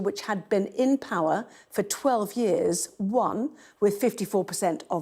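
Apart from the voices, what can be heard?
No everyday noises stand out.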